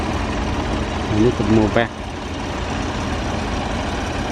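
A Massey Ferguson 290 tractor idles with a low, steady rumble on a narrow street beside a river, continuous throughout, while someone speaks briefly over it.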